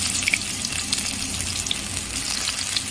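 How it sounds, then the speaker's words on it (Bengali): Chopped onions drop into very hot oil for masala Maggi and fry with a dense, crackling sizzle that stays steady and close the whole time, with no voices. "আমি ওই কেটে রাখা এই পেঁয়াজ কুচিগুলো দিয়ে দেব। কেটে রাখা পেঁয়াজ কুচিগুলো দিয়ে দিলাম।"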